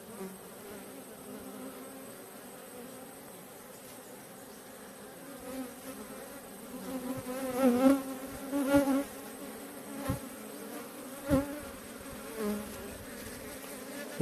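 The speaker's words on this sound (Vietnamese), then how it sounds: "tự nhiên tôi nghe ong tự nhiên nó bay đầy vô người tôi nữa" A swarm of bees buzzes around a hive on an electric pole, a steady droning hum with louder close passes as individual bees fly near.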